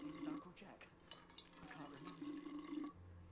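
Water filling a container for a drink inside the video game We Happy Few, a short trickling, splashing pour running under a talking voice.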